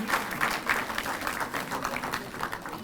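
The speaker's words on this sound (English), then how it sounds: "A huge round of applause for Miss Hema Malini, legendary Bollywood actress and member of Parliament" An awards-ceremony audience applauds a legendary Bollywood actress and member of Parliament, a dense, continuous wash of many hands clapping at moderate volume, heard through a hall sound system with no speech over it.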